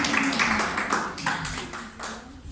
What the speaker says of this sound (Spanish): un aplauso para mi hermano Alberto